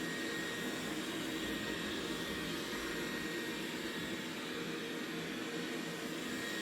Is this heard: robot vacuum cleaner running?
yes